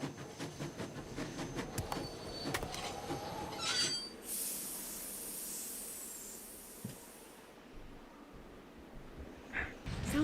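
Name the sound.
train departing, from the video game Nancy Drew: Last Train to Blue Moon Canyon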